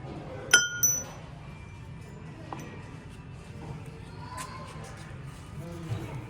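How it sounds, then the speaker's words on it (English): A couple of bright, high clinks ring out early from cut-glass crystal bells struck lightly, then fade into a quiet Habitat ReStore shop with faint murmuring in the background. "You have a couple of crystal bells."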